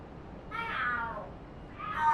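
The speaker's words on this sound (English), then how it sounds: "Are there cats fighting?" Video game cats meowing in two drawn-out, rising then falling cries, the first longer and the second cut short, fairly close and clear with no talk.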